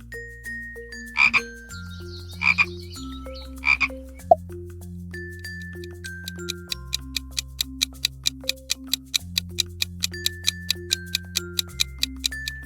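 A pond frog gives three loud, separate croaks at even intervals, followed by a steady run of ticking clicks, all over a soft, simple melody.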